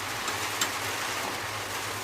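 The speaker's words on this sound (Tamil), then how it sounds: "இப்போ மழை பயங்கரமாக பெய்யுது" Heavy rain pours outside a home kitchen, a dense, steady hiss with a low rumble underneath and no talking.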